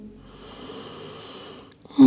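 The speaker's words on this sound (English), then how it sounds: "Breathing in" A single slow, deep inhale through the nose during a gentle mobility flow, a soft airy breath drawn steadily for nearly two seconds close up, then a voice starting right after.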